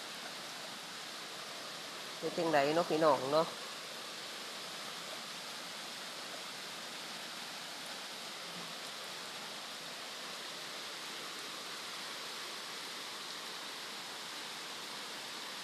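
Steady rain falls at Grandma Hom's house, a dense, even hiss that runs unbroken from start to finish. A brief spoken phrase rises over it near the beginning, then the rain continues alone.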